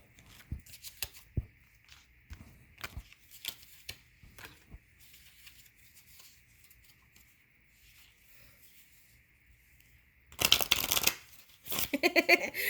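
Angel cards are riffled and shuffled in bursts of soft papery flutters and slaps, close and fairly quiet, growing to longer, louder shuffles near the end.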